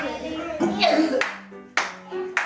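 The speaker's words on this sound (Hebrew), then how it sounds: "ואנחנו כפיים, כולנו" Children clap hands together during a kindergarten music lesson about garden vegetables; a few sharp, irregular claps ring out over a singing, talking adult voice.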